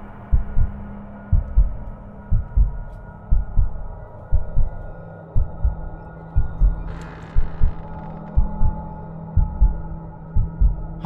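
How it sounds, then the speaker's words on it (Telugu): Heartbeat sound effect in the horror video game The Lost Fear, loud paired lub-dub thumps repeating at a steady, slightly quick pace over a low droning hum, with a brief hiss partway through. "ఆ హార్ట్ బీట్లు ఏంది బ్రో"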